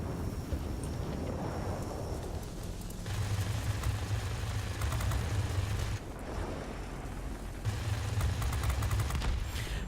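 Sustained machine gun bursts from a warplane in the World of Warplanes video game, loud rattling strafes in several long runs separated by brief pauses, over constant engine and wind roar.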